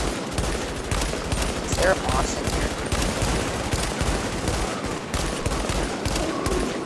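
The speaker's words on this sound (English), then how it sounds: "what are you being shot by?" Continuous automatic gunfire from a video game fight hammers on in fast, dense bursts, loud and close, as players talk over it.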